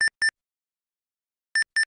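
An incompatible Sega cartridge in an Analogue Mega SG gives electronic beeps: two short bright tones, a long silence, then two more, clean and isolated.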